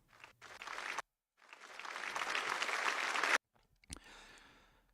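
Applause in a hall as the UN votes, heard through a played news report: a burst of clapping swelling and then cut off abruptly, with brief fragments before and after, fairly faint.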